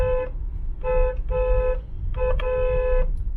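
A loud vehicle pressure horn blares in four bursts, a short blast, a longer paired double blast, then a sustained final honk, harsh and buzzy over low traffic rumble.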